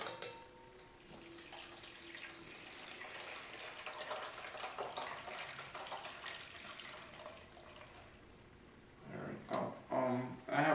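Juice strained through a kitchen strainer into a container, a steady liquid pour and trickle running for several seconds before a few louder splashy bursts near the end.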